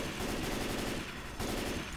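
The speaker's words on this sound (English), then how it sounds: "I got some gunfire" Rapid automatic gunfire in the zombie shooter Left 4 Dead 2 rattles in dense, continuous bursts with a brief dip midway, loud and unbroken.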